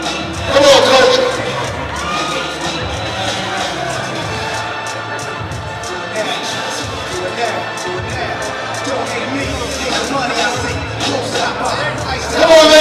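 Crowd cheering and whooping at a girls' middle school all-star basketball game, a steady roar of spectators running throughout with louder swells at the start and end, under an announcer's amplified voice.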